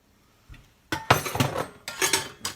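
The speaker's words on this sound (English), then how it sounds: "Let's mix this in." A utensil scrapes and clinks against a bowl as buttermilk is mixed into a pear ginger pecan bread batter, several bursts of loud, close clattering after a brief quiet start, with no talking.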